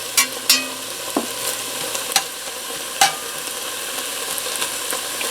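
White onions sautéing in a pan for a creamy bean and collards soup, a steady close sizzle with a few sharp clinks and scrapes of stirring scattered through, no voices.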